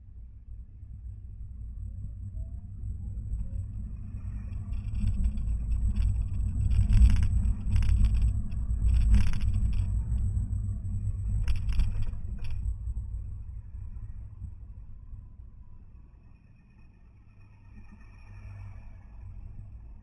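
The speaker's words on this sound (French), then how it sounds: "la seule chose qu'on distingue, c'est le bruit du scooter qui est devant nous" A low engine rumble drones throughout, swelling and fading as a scooter runs ahead in traffic, heard from inside a 2014 Smart Electric Drive, with faint road noise and no voices.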